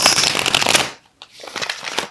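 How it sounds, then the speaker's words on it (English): Tarot cards shuffled by hand in quick riffling bursts, loud and close, pausing briefly before a second run of rapid shuffling. "I'm going to have to shuffle."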